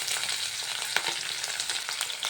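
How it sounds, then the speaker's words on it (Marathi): Garlic tempering sizzles hard in hot oil in a village kitchen, a loud continuous crackling fry with scattered pops and spatters throughout, and no voices. "तर आपण आता लसणाची फोडणी देऊया"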